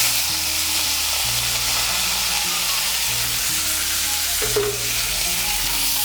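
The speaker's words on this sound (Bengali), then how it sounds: "তেলের সঙ্গে মিশিয়ে নিয়ে লাল করে ভেজে নেব।" Chopped onion fries in hot oil in a Bengali kitchen, a steady broadband sizzle running the whole time with faint stirring scrapes and a brief louder hiss partway through, close and without talk.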